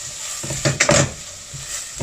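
Sliced onions and finely cut peppers sizzle in a pan, a steady frying hiss broken by a few close clatters of a utensil stirring against the pan.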